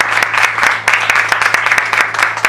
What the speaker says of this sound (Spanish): Dale un fuerte aplauso a la iglesia